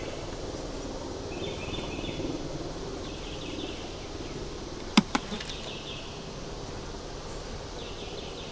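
Honey bees buzzing around a crowded nuc hive, a steady, moderately loud hum with a couple of sharp clicks partway through.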